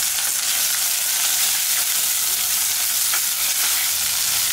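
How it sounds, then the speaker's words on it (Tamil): Ten small onions and garlic fry and sizzle in a pan for a chickpea and ridge gourd masala gravy, a steady loud crackle with stirring scrapes throughout and no talk. "ஒரு 10 சின்ன வெங்காயத்தை இதல போட்டுக்கலாம்"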